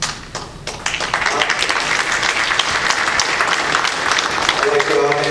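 An audience claps at a borough council meeting in Donora, a sustained burst of many hands applauding in a hall, loud and continuous, with voices mixed in beneath it.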